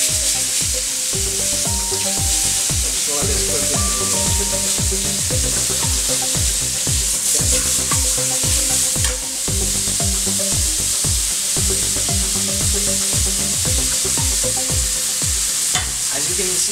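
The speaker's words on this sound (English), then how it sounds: "You want to get a good sear, you want a nice golden brown." A fatty piece of pork sears in a hot pan, a loud continuous sizzle and crackle with music playing throughout.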